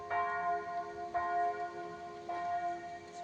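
Church bells ring out in slow, evenly spaced strikes, each tone lingering and overlapping the next, heard from a moderate distance.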